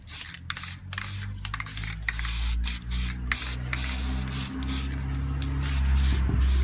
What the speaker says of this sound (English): mist that it sprays rather than a heavy spray